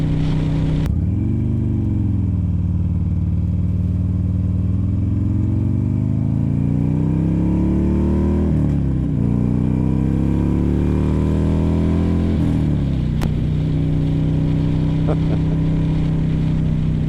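Buell Ulysses motorcycle riding in second gear up toward 45, with a steady engine drone rising and falling in pitch as the throttle shifts, under constant wind rush and close.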